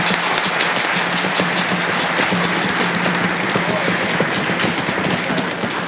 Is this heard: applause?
yes